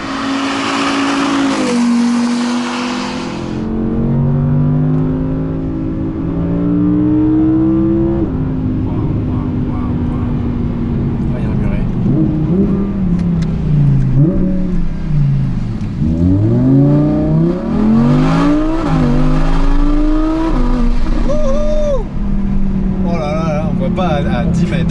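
A 2019 Audi R8 Performance V10 revs hard and accelerates, its engine note climbing through repeated gear changes and swooping pitch, loud and close throughout.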